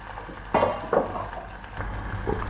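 Chopped onion frying in a pan for a spiced potato filling for dosa, a low steady sizzle broken by a few louder scrapes and stirs of a utensil against the pan.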